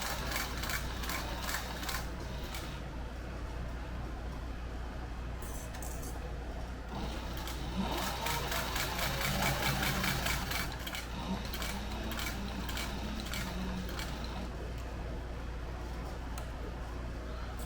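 Sewing machine stitching a sling bag at the thick-to-thin edge under a presser foot, a fast steady mechanical rattle in bursts with brief pauses, close and moderately loud, with faint background hum.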